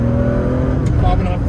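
A 1978 Porsche 911 Targa engine revving hard as it accelerates in second gear, a loud, rising close-up engine roar with someone speaking over it.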